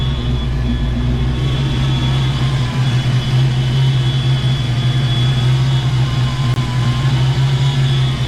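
A Fox body Mustang engine idles with a steady, loud low hum and a faint high whine, holding an even drone throughout while warming up and showing a slight idle issue.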